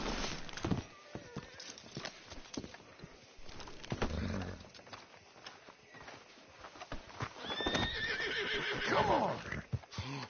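In the video game Red Dead Redemption 2, hooves clop and shuffle up close, then a horse lets out a loud, wavering neigh, with faint bird calls in the background.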